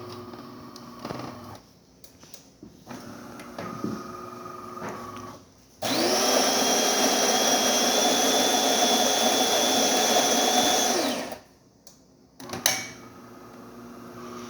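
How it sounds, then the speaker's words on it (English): A DeLonghi Magnifica espresso machine, descaling light on, clicks, then its pump drones loudly and steadily for about five seconds pulling a shot before cutting off, followed by a few small clunks. "Today we're testing this beautiful Delonghi Magnifica espresso machine. Let's go ahead and pull a shot."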